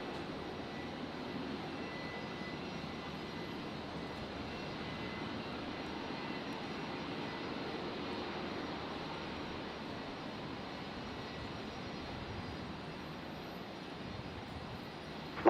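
An aircraft on the runway at Brisbane airport makes a steady, even engine roar throughout, distant and fairly faint, with no talk.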